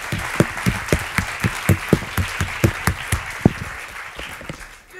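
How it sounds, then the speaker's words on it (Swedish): An audience at a conference talk gives a round of applause, heard as a string of distinct, fairly loud claps that are sparse at first and then taper off toward the end. "nu vill ju de ha på en ordentlig applåd så att de kommer igång"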